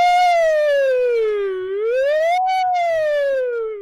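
A person imitates a police-style siren with their voice during a gaming livestream, a single loud wailing tone that falls and rises smoothly over a few seconds.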